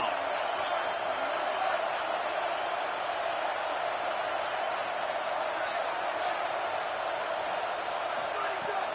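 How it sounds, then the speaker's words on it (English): Home stadium crowd in an LSU versus Florida college football video game, a loud, continuous roar of cheering and shouting that stays level across the whole stretch without distinct words. "Here comes this home crowd as the defense tries to get off the field on 3rd down."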